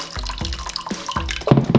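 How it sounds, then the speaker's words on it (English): Water pours into a saucepan set up as a double boiler for melting candle wax, with splashing, gurgling pulses and drips, close and fairly loud, growing busier toward the end. "So we've got a saucepan here that we're going to put some water in"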